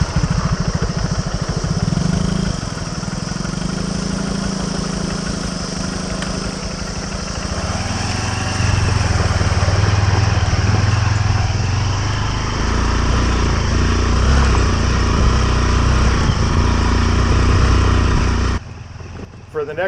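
A light motorcycle ridden solo on a jungle trail in Indonesia runs close and loud, its engine note shifting and revving for nearly twenty seconds before dropping away at the end.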